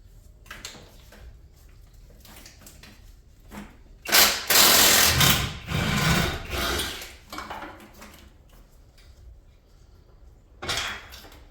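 Ratchet working loose the last 19 mm bolt on an engine T-bracket during a D15B7 engine removal: quiet, scattered clicks, then a louder burst of metallic rattling and clatter in the middle, with one more clank near the end.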